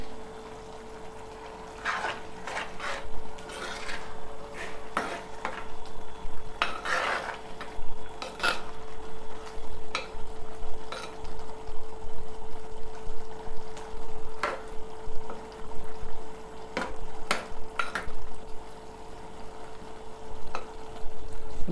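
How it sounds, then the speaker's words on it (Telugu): Coriander powder being stirred into an egg curry in a pot, with repeated scrapes and clinks of a spoon against metal over a steady low simmer, moderately close and without talk. "ధనియాల పొడి వేసుకొని ఒకసారి కలుపుకుందాం."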